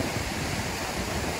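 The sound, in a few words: Mowbray Falls waterfall rushing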